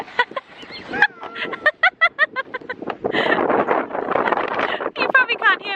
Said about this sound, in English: You probably can't hear me either because it's so windy